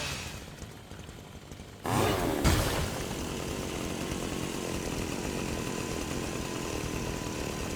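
A chainsaw buzzing in an online battle-royale video game during a glitch, a steady loud droning whine that kicks in abruptly partway through and keeps running evenly, with quieter game noise before it.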